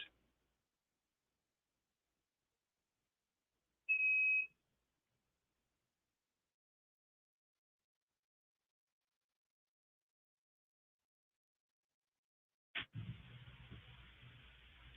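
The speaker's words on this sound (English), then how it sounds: "Sorry, my machine was beeping." A single short electronic beep sounds in near silence, followed much later by a sudden burst of noise.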